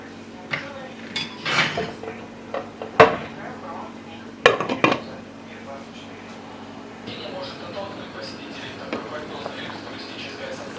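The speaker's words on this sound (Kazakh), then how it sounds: "Араластырамыз." Meatball soup with zucchini and bell pepper being stirred in a pot, with scattered clinks and scrapes of a utensil against the pot, clustered early and then fading into quieter, sparse taps over a low background hum.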